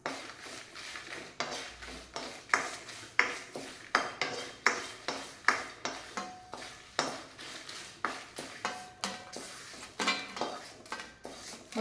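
Toor dal dry-roasted in a pan without oil is stirred with a spatula, giving quiet, regular scraping strokes and light rattles about twice a second.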